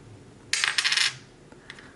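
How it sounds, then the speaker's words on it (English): A copper dime and a silver dime dropped one after the other onto a hard surface, a bright cluster of close metallic clinks and rattles followed by a fainter, duller tap; quiet, with no talking over it. "So here's a copper dime, and here's a silver dime."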